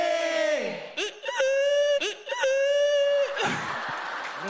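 A young male idol imitates a rooster crow on a Korean TV music talk show, a loud drawn-out vocal call with rising and falling pitch repeated in bursts, ending in crowd laughter and cheering.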